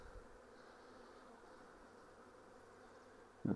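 Honey bees from a freshly caught swarm fill the hive, their buzzing a steady, even drone that stays level throughout, with a brief louder knock near the end.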